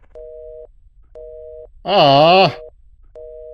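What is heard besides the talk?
telephone busy tone in a video game, Love Eternal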